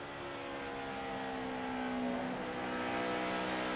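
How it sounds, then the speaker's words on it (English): Jeff Burton's number 31 NASCAR race car at Michigan, heard from onboard on the front straightaway, its engine holding a loud, sustained high-revving drone at full throttle with steady harmonic tones and no talk. "Let's listen to the throttle."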